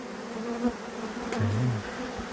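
Honey bees buzzing at a hive that had swarmed, a steady close drone with one louder bee passing nearby midway.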